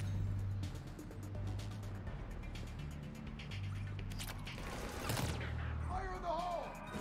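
Gunfire in the video game Mass Effect 3, with rapid repeated shots and a louder burst near the end, layered over game background noise and low rumble.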